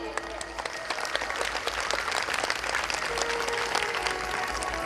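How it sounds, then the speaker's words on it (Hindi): An audience at a temple gathering applauds, a dense, sustained clatter of many hands clapping together with a voice faintly audible beneath. "वाह, बहुत सुंदर, तालियां बजाइए जोरदार।"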